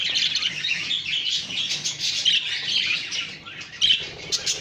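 Pet birds in a large cage give a dense, continuous stream of bright chirps and tweets, close and lively, with no other sounds competing.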